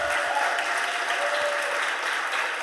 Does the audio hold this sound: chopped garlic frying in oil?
no